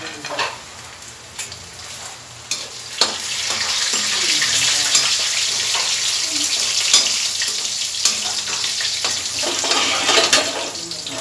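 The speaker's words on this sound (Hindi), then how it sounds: "और मूंगफली लिए है, इन्हें मैं फ्राई कर लूंगी।" Peanuts fry in a pan with a continuous crackling sizzle, broken by sharp clicks and stirring scrapes, close and moderately loud.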